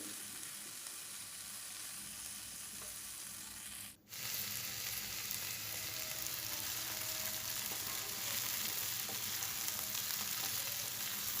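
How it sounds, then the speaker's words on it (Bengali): Okra bhaji fries in a pan with a steady, close sizzle that runs the whole time. The pan is stirred now and then, there is one brief dip near the start, and no one speaks. "তো এইভাবে নেড়ে চেড়ে ভেজে নিচ্ছি, কিছুক্ষণ পর পর নেড়ে চেড়ে নিতে হবে।"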